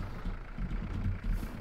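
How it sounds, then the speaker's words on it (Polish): A loud Bizon combine harvester engine in Farming Simulator 13 drones low and heavy, a steady rumbling idle with slight pulsing, alone and close. "Bardzo głośny bizon."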